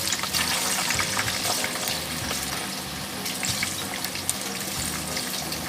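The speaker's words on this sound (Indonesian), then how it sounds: "Kita goreng kentang dan juga tahunya bergiliran ya." Potatoes and tofu sizzle in hot oil in a large, deep pan, a steady dense crackle and hiss that runs continuously at close range with no voices.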